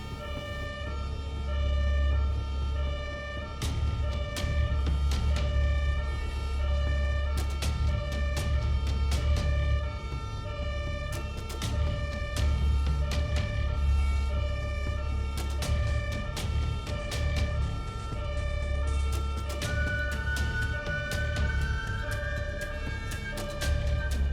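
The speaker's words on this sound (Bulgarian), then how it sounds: "виждайки и чувайки зад нас сигнализиращ автомобил" Emergency vehicle siren sounding loudly and continuously behind a vehicle on a road, with a repeating wailing tone over steady engine and road rumble and no talking.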